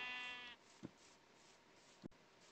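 Sheep bleating in the Minecraft video game, a harmonic bleat opening the clip and fading by half a second, followed by two brief soft thumps against faint background ambience.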